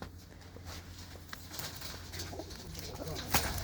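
Soft low cooing of racing pigeons in the background over a faint steady hum, quiet and continuous, with occasional light rustles.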